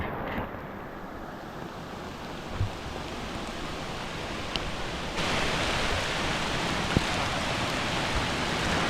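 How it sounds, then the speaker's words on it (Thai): A steady, dense downpour of heavy rain in a forest near a waterfall on Koh Chang, Thailand, hisses continuously and grows a little louder partway through, with no voices. "ตอนนี้คือฝนตกหนักมากแล้วเนี่ย"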